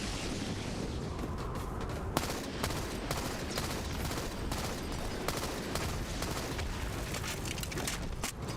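Gunfire from the shooter game Halo: MCC, shotgun included, as a steady, loud barrage of overlapping shots and blasts that continues throughout.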